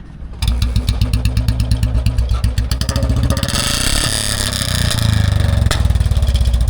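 A Royal Enfield Bullet BS4 Electra engine starts and settles into a loud, steady, thumping single-cylinder idle, then revs up into a harsher, busier note before the even beat returns, heard up close.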